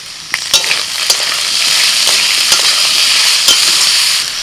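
Potatoes and onions sizzle steadily in hot oil as ginger-garlic paste goes in, with a few sharp spoon clacks against the pan over a constant bright frying hiss.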